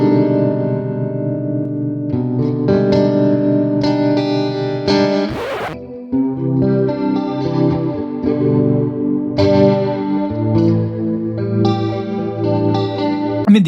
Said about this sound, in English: It's like a chorus. Yes, it's like a super wide chorus.